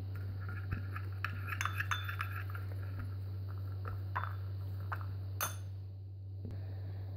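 A spoon clinks against a cup while ground coffee is stirred together with natural honey, producing scattered bright taps and scrapes, some in quick clusters, over a steady low electrical hum.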